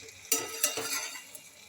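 A spoon stirs okra curry (bhindi kaleji) in a pan, making three quick scraping strokes over a faint background sizzle, then fading quiet.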